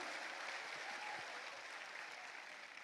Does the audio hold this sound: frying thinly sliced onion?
no